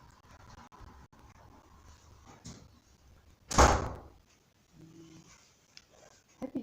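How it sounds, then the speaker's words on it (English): A heavy door shuts with one loud, solid thud partway through, set against a quiet indoor room at a UK medical service, followed by faint low shuffling and a couple of small knocks near the end. "Heavy doors, isn't it?"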